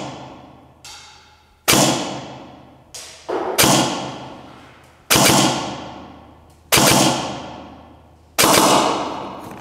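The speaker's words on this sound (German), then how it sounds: "Ich schieße einfach jetzt mal runter und gucke, ob ich was bei meinen Scheiben treffe." Begadi Sport Mod 5 A7 PDW airsoft SMG firing at targets indoors, with about eight loud, sharp single shots at uneven intervals, each thud followed by a ringing decay.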